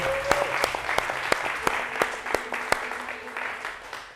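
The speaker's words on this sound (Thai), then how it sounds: "ก่อนอื่นเลยขอเสียงปรบมือให้กับตัวเองด้วยครับ" Audience applause at a tattoo competition, a dense crowd clapping steadily throughout with sharp individual claps standing out, fairly loud and continuous without talk.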